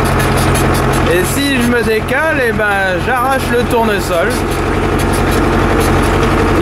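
A tractor engine runs steadily throughout while hoeing a sunflower field, following the seed drill's wheel tracks; someone talks over the continuous loud drone.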